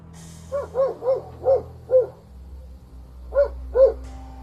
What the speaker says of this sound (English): Dogs, usually brave and protective, started barking a lot.